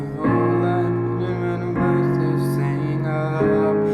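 Piano playing the chorus of a song, sustained chords changing every second or so in a steady, even pulse, close and moderately loud with no voices.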